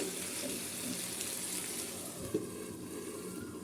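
Rice being rinsed under a running tap for chicken biryani, a soft continuous water hiss with light splashing and one small knock, quiet and close, no speech.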